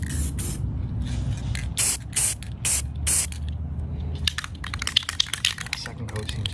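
Short hissing bursts of blue spray paint coat a 1934 U.S. Tool Company Commander drill part, several close, loud blasts in the first half, followed by lighter spurts with faint background noise.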